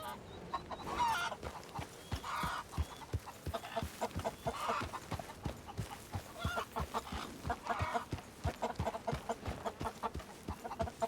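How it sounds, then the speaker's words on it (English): Farmyard chickens cluck steadily and close by, a busy, overlapping stream of short clucks and squawks that continues without pause and without any talking. "Alright, chickens, come on, let's go. Stop clucking around."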